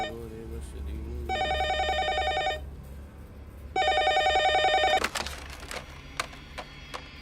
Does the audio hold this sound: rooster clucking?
no